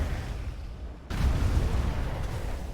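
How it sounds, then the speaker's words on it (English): An explosion during a World of Warcraft raid erupts abruptly as a sudden deep boom, followed by a sustained low rumbling roar at moderate volume. "Yeah, because that explosion right there is what gets you."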